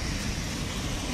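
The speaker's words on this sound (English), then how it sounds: "Heading to class in the rain." Rain falls outdoors on a street as someone walks to class, a dense, even hiss of drops that stays constant through a short moment.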